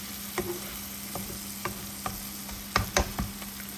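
Masala with a green chili frying in a pan, a faint steady sizzle broken by scattered spoon scrapes and knocks against the pan, with a low hum underneath.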